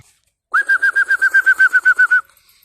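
Pigeons released to fly give a quick run of about a dozen evenly spaced, bright tonal notes. The notes are close and fairly loud, and they stop abruptly in an otherwise quiet setting.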